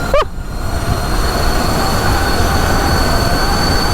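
A homemade mini electric supermoto running at full throttle, giving a loud, steady whine and rushing road and wind noise that holds constant throughout, with a brief rising tone near the start.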